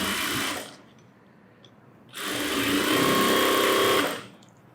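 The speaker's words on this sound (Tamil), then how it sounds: "சரி ஒரு தையல் போட்டு டைட் பண்ணிக்கிறேன்" A sewing machine stitches a chudithar in two bursts, one short and one longer, each a close, steady, fast mechanical whir with a quiet pause between them.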